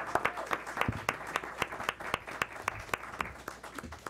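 A small crowd at a school board meeting claps steadily, a brisk, even round of applause heard up close with no voices.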